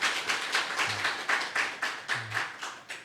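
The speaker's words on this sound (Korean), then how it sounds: "박수로 환영하겠습니다" A church congregation claps to welcome newcomers at a Sunday worship service, a steady sustained round of applause from a roomful of people with no voices.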